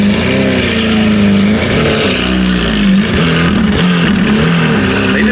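Loud, deep engine roar from a nearby Lamborghini Aventador, revving and rumbling continuously with rising and falling pitch.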